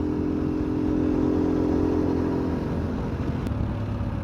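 A motorcycle cruising along a road between Sialkot and Chiniot, a steady low engine drone mixed with wind rumble, continuous and close, without talk.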